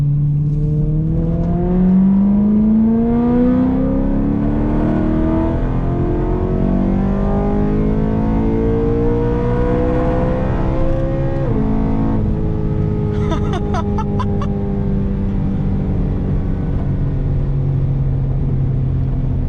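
A loud, close V8 engine in an E93 BMW M3 revs and drops through gears, pitch climbing and falling with each downshift, rumbling continuously throughout.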